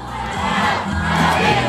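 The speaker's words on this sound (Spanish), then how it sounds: "una porra fuerte que se escuche para nuestra Virgen de Guadalupe" A crowd roars and cheers together for the Virgin of Guadalupe torch run in Izúcar, a loud sustained shouting swell from many voices that rises again toward the end.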